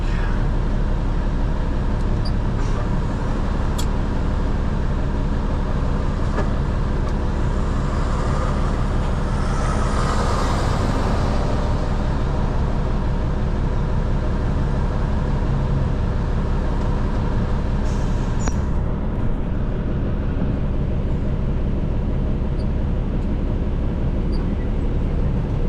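Busy street traffic around a truck making a tight delivery, a loud continuous rumble of engines and road noise with a brief hiss partway through and no talking.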